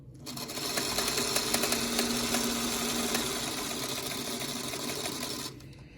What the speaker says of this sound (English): So I'm going to go ahead and stitch that so that you can see.